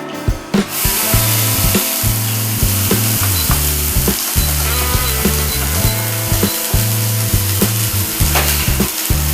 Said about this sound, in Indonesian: Selanjutnya, saya akan tumis dulu bumbu-bumbunya.